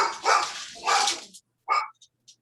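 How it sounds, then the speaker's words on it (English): Dogs barking at home, a couple of loud, close barks followed by short yips and faint whimpers, all in quick succession before falling silent. "Sorry about that. Those are my dogs."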